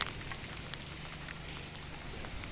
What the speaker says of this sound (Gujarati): ચા અને વરસાદ તો ખૂબ જ જોર આવે છે કેટલો અવાજ આવે છે